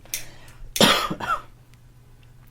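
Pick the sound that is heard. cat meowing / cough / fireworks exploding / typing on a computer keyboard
cough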